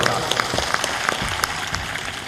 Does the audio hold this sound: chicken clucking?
no